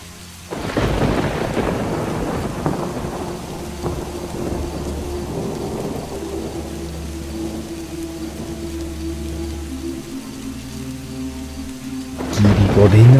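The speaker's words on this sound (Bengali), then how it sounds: "বৃষ্টিও পড়ছে।" Heavy rain pours steadily through a night thunderstorm, with loud thunder rumbling up front at the start and again near the end, the downpour a dense continuous wash in between.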